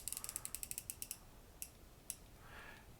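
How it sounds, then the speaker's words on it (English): Unidirectional bezel on an Invicta Subaqua NOMA III Heritage 29210 watch turning, producing a quick series of about a dozen crisp close ratcheting clicks, then two isolated clicks after pauses and a faint scrape. "Of course, we have full rotational unidirectional bezel"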